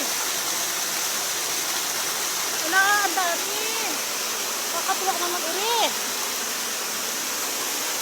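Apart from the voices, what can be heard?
waterfall flowing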